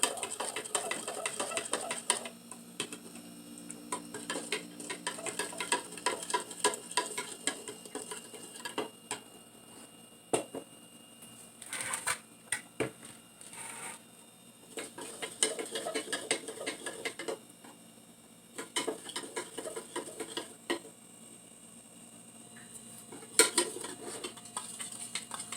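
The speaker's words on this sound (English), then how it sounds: "So I'm going to add this gradually while mixing slightly stirring the soy milk." A utensil stirs soy milk in a container as salt coagulant is added gradually, giving close, irregular clinks and scraping against the sides in bursts separated by brief pauses.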